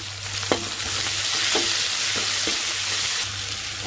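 Mustard seeds sizzle and pop in hot oil in a pan while cooking a drumstick gravy, a steady frying hiss with a few sharp crackles scattered through it, close and with no voices.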